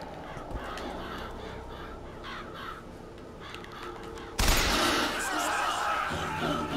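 Crows caw in the video game Bioshock Infinite amid busy game sounds, with a sudden loud burst of noisy action partway through and a voice talking underneath.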